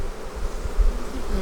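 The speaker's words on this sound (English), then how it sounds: "We have bees attacking my mask" Honey bees boil out of a hive and swarm around a beekeeper's mask in a bee yard, a dense, close, continuous buzzing drone with no voices.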